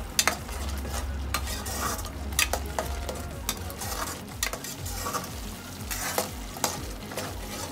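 Masala fries over a medium flame for mushroom butter masala while a ladle stirs it slowly, giving a soft continuous sizzle with repeated scraping and clinking strokes against the pan.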